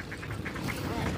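Ducks quack in a field in a brief, dense burst of overlapping calls, close and fairly loud, with a voice mixed in.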